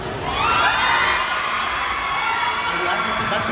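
A crowd at a showbiz press event shouting and cheering loudly and continuously, a dense wash of excited voices filling the room with no pauses.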